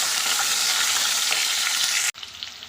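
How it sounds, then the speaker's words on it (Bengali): Potatoes sizzle loudly as they drop into hot oil tempered with spices, a steady dense frying hiss running alone for about two seconds, then dropping to a softer crackle as they are stirred. "ফোড়ন দিয়ে সুন্দর গন্ধ বেরিয়েছে, এখন আলুগুলো দিয়ে দিচ্ছি। দিয়ে একটু নেড়ে দেবো।"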